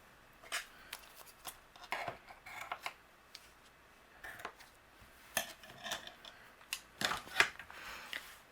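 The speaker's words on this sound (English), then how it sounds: "I'm going to use my scissors and we will trim this." Scissors trim a length of ribbon on a handmade card, giving a few sharp, close snips and clicks scattered across a quiet background with no talking.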